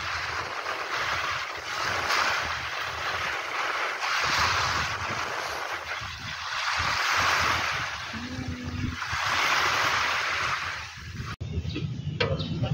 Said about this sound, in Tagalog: Mahangin kaya dito.